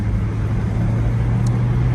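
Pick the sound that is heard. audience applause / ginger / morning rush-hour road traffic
morning rush-hour road traffic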